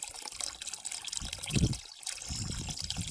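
Mineral spring water at Molodetska Krynychka in Kholodnyi Yar trickles and splashes close by, a continuous gurgling flow with no talk.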